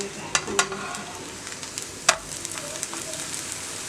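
Pancake batter sizzles and fries in a pan after being flipped, a steady close crackle with a few sharp clicks and scrapes of a utensil, no talking.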